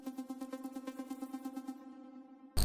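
A third electro house arpeggio preset in FL Studio: a rich, buzzy synth pulsing in fast even steps, loud and alone, with its brightness fading near the end before a short burst of noise.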